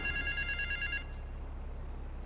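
A payphone rings in the GTA III video game, a short electronic bell trill for about a second, then the ring cuts off and low hum carries on alone.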